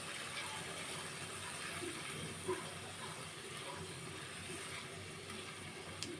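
Tomatoes and chopped coriander frying in a pan for a cabbage bharta give off a steady, soft, close sizzling hiss with no voices.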